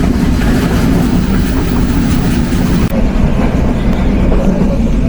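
Nilsagar Express passenger train running at about 70 km/h past Mirzapur station, a steady, loud rumble of wheels and carriage noise filling the whole stretch without a break.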